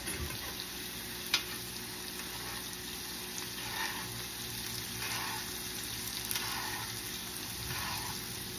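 Steak searing in a pan for a crispy crust, a soft steady sizzle and crackle heard from close by, quiet and continuous with a few faint pops.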